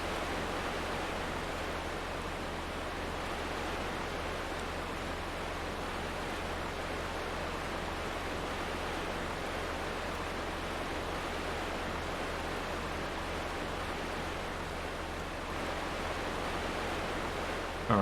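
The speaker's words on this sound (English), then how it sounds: "That's a hell of a waterfall." Waterfall in Thief 2, an unbroken, even roar of falling water held at constant level throughout, close and enveloping, with no voices.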